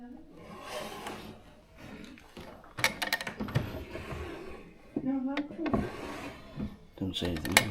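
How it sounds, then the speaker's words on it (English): Old wooden drawers being pulled open and pushed shut, several scraping, knocking slides in bursts, with people talking and breathing nearby. "Can you open these drawers?"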